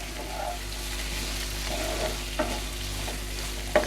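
Chicken roast frying in oil as it is stirred in a pan, a steady low sizzle with a few sharper clicks of the spoon against the pan, close and alone with no talk.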